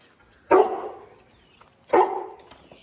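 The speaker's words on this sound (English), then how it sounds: "barking at me, wanting to play." Tank the dog gives two separate barks about a second and a half apart, moderately close and clear over a quiet outdoor background.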